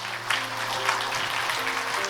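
A church congregation claps to congratulate members honored for long service at the church's 33rd anniversary, a full, even round of applause filling the room with a low steady hum beneath it.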